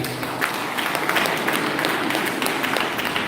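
An audience at a senior high school's 65th anniversary celebration applauds the keynote guest of honour. The clapping is dense and steady for the full stretch, with no clear voice over it.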